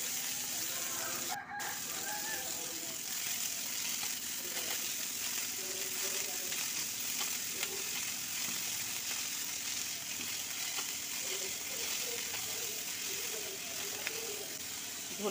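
Onion, tomato, garlic, green chillies and chopped coriander fry in a pan with a steady, close hiss and sizzle, while a rooster crows and chickens cluck faintly in the background.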